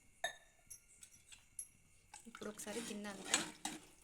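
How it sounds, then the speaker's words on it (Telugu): A few metal clinks of pots and utensils come first, then water pours into a pan of hotel-style besan curry with a rushing splash, while someone talks. "రెండు గ్లాసుల నీళ్ళు పోసుకుందాం"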